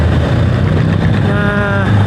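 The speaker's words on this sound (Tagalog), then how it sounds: "Yan ang daming motor" Dense engine droning and rising revs from motorcycles crowding a busy, narrow city street on a night ride near Mall of Asia, with a jeepney nearby. A loud, continuous traffic rumble fills the whole stretch.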